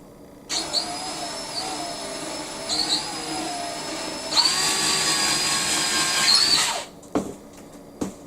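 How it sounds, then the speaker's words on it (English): An electric drill bores a 1/4 inch hole into a ceiling for an LED flat panel light fixture, whirring loudly in two bursts with a pitch shift between them, then stopping, followed by a few small knocks. "But I've got the drill in the hole."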